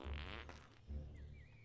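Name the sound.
fart from video game Fable Anniversary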